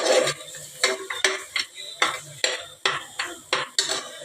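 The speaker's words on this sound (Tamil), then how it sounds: "ஃபைவ் மினிட்ஸ் அப்படியே மிக்ஸ் பண்ணிட்டு இருக்கணும்" Goat leg soup being stirred in a pot, with a steady run of scraping, clinking strokes of a utensil against the pot at a quick, uneven rhythm, close by and fairly clear.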